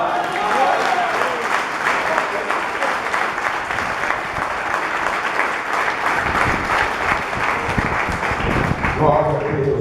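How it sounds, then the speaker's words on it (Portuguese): Congregation applauding during a church service in Duque de Caxias, Brazil, sustained loud clapping across the whole stretch, with a voice speaking over it at moments. "Aplauda Jesus nessa hora."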